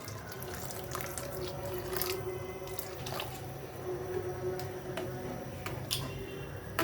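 Tomato and chili sauce simmering after vinegar is added, with a bubbling, watery hiss and scattered clicks and clinks of utensils against the pot, close by and with no talk.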